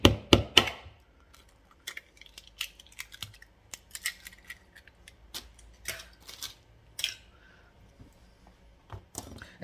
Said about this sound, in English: just whisk it until it makes a batter, till it's all lovely and smooth